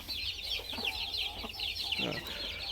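A hen clucks in short, repeated bursts on a Thai fighting-chicken farm, with other fowl around and someone talking faintly underneath.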